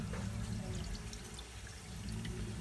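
Two to three cups of water pour around the edge of a springform cheesecake pan set up for a water bath, a steady close splashing and gurgling with no speech.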